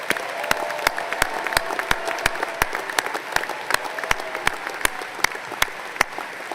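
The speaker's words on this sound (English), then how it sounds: "let's give our alumni one more round of applause" Sustained applause from a large audience honoring alumni at a Penn College spring commencement ceremony, steady dense clapping with sharp individual claps standing out, continuing throughout without speech.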